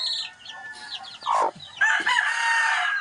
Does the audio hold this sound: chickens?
yes